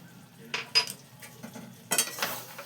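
Kasuri methi being stirred into Mughlai white chicken in a pan, heard as a few sharp metal spoon clinks and scrapes against the pan, close and fairly quiet, with soft gaps between strokes.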